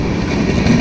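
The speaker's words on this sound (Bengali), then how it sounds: "ট্রেন প্ল্যাটফর্মে ঢুকে গেছে" A train rolls fast into a railway platform on the Howrah–Sonarpur route in West Bengal: a loud, continuous close rumble of rail cars with faint clattering wheels and no voices.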